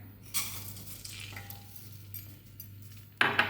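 Rice hits hot ghee in a pan for milk payasam and is stirred, with a low sizzle, scattered scrapes and a louder clatter of the spoon against the pot near the end.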